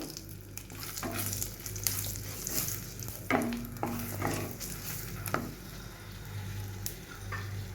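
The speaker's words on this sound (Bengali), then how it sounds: "দুটো কাঁচা লঙ্কা, এই দুটো শুকনো লঙ্কা দিয়ে দিলাম ফোড়ন।" Green and dried red chillies spluttering as a tempering in a little hot oil for dhaba-style chicken bharta, a soft continuous sizzle with scattered ladle clinks and scrapes, fairly quiet and close.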